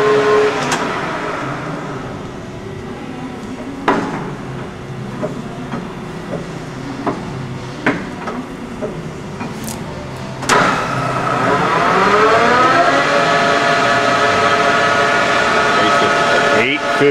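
A LeBlond Regal 15 x 30 gear head engine lathe runs at around 625 RPM with a steady, smooth mechanical hum and gear whine. Scattered clicks sound over it, and the whine rises louder near the end.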